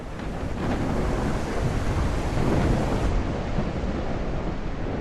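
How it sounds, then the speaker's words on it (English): A thunderstorm in a horse-game cutscene from Equinox Homecoming, with steady rain and a long rolling thunder rumble swelling mid-way, loud and continuous with no talking. "It is stormy. It is a stormy night."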